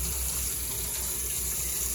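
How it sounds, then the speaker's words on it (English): Tap water runs steadily over a removable part of a scent blender in a kitchen sink, a constant close hiss and splash for the whole two seconds with no pauses or talk. "Now we're going to take and run the water over"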